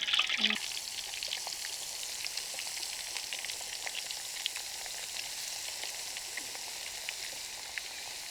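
Fish pieces fry in hot oil at a village fish feast, a loud continuous sizzle with crackling pops scattered throughout, close up and without talk.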